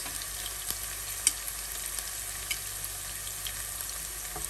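Ginger garlic paste frying in a pan for spaghetti: a steady, soft sizzle and crackle with occasional faint pops and light stirring clicks, continuous and close with no voices.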